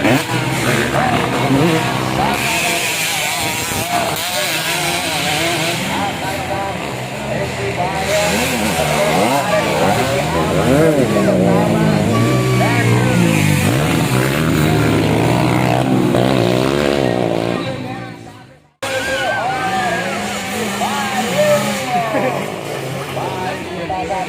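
Motorcycles race on a grasstrack at a practice event in southern Cianjur, their engines revving and droning loudly throughout while an announcer talks over them, with a brief dropout near the end.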